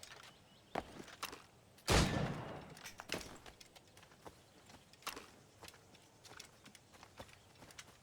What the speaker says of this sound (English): I gotta shoot 6 targets